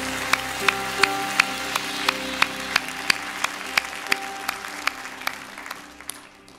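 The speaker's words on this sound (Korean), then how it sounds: "다시 한번 하나님께 큰 영광의 박수 올리도록 하겠습니다." A church congregation applauds during a Christmas Eve Sunday service. The clapping is moderate and steady, with a faint sustained organ or keyboard tone underneath and no talking.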